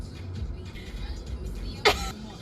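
A single sharp sneeze bursts out nearby over the low steady rumble of a moving car, with faint talk in the background.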